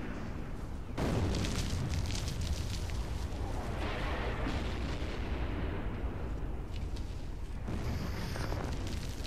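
Explosions go off outside in the game Resident Evil Code Veronica X, a dense continuous rumble of booms and blasts that runs loud and unbroken for several seconds, then eases briefly before surging again.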